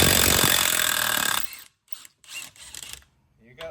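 A 10mm ratchet works bolts loose from a CFMOTO secondary clutch on a stand, a loud steady whirring burst followed by a few short, separate clicking and rattling bursts with pauses between, up close.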